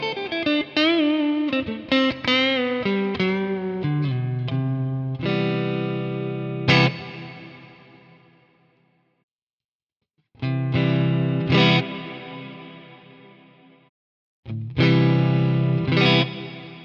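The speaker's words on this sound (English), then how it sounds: "You've also got the modulated reverb, which you can hear that you get a little bit of modulation" Electric guitar through a Nano Cortex pedal on its modulated reverb setting: strummed chords and single notes bloom into a wavering, slightly degraded wash that rings out and fades between phrases, with no talking.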